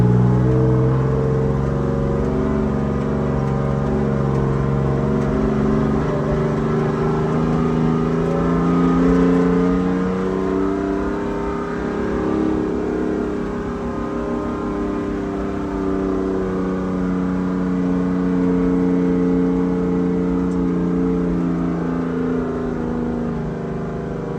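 A 1973 American LaFrance Pioneer fire truck engine runs loud and close, its deep drone rising and falling in pitch as the throttle is worked, with no talk over it.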